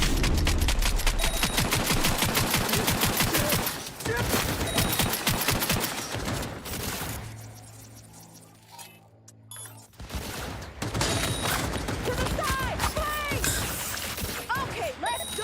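Loud bursts of rapid automatic gunfire from the video game Cyberpunk 2077 Phantom Liberty, with a brief lull near the middle before the shooting resumes, mixed with game sounds and someone talking over it.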